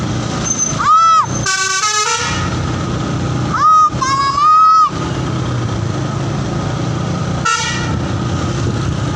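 Indonesian bus telolet horn blaring a bright, warbling multi-tone melody in several loud bursts, with engine rumble and crowd noise between the calls.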